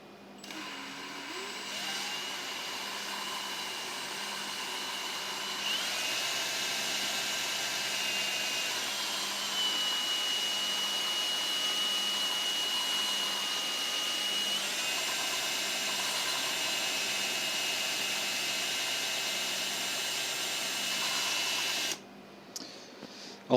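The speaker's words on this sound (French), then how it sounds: "avec ta perceuse, tu fais pression comme ça" A power drill laps valves on a Nissan 350Z engine, giving a steady, fairly loud whining motor tone for about sixteen seconds. Its pitch shifts slightly partway through, and it runs alone before stopping abruptly.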